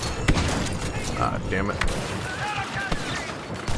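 Shotgun blasts ring out in a Star Wars Battlefront 2 match, a few sharp close shots over dense game noise and rumble, with a player talking briefly over the action.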